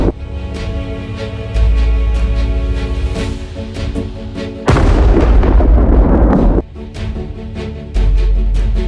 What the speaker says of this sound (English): The Ukrainian Leopard tank opens fire on the occupants.